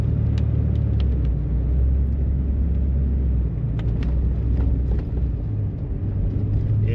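A four-wheel-drive vehicle moves slowly over a rough, unsalted forest road in Kanawha State Forest. A continuous close engine rumble is broken by scattered clunks and rattles from the uneven ground.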